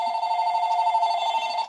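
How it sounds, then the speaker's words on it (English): A phone rings with a steady electronic tone that holds at an even level throughout. The ringing is near and clear, with no voices over it. "my phone started ringing"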